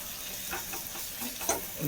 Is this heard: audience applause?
no